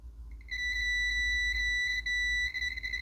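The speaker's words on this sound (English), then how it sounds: "So do you hear that beep?" Multimeter continuity-test beep while checking a KZ440 motorcycle starter motor: a steady, clear electronic tone that starts after half a second and holds with slight flutter and brief dips.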